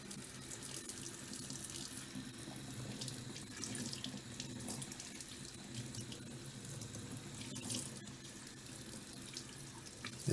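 Tap water runs steadily into a sink while a Shark Stratos vacuum filter is rinsed and squeezed out, a constant close splashing rush with no talking.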